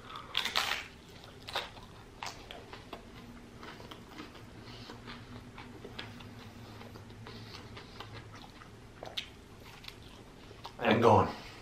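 Crisp crunches and chewing of a Taco Bell taco eaten close to the mic in a mukbang, with a few sharp bites spread out and a louder crunching burst near the end.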